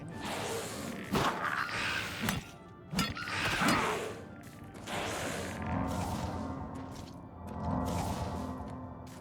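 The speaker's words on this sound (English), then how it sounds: "I just parried the fuck out of that guy." Weapons clash in a parry during melee combat in Oblivion Remastered, with several sharp metallic hits and thuds over game swooshes and background noise, no clear talk.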